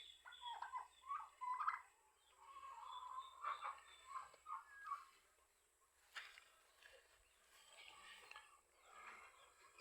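Turkeys gobble in short rattling bursts, several calls clustered early then scattered, moderately near, with faint farmyard background and no talking.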